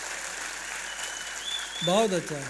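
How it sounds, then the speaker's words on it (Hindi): Steady applause from an audience at an Urdu poetry mushaira in Vadodara, a continuous wash of clapping throughout, with someone speaking briefly over it near the end. "एक बार अपने आप के लिए जोरदार तालियां बजा दें।"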